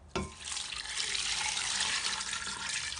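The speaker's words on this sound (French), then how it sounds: "Ensuite on met de l'eau." Water poured from a vessel into a pan of seasoned chicken wings with olive oil, a steady close splashing rush that starts abruptly and keeps flowing for a few seconds.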